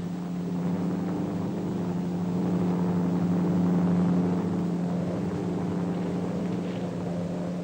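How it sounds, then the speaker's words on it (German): A police airplane's engine drones steadily overhead in a 1953 crime film, a loud, continuous hum that swells slightly midway, with no voices. "Polizeiflugzeug."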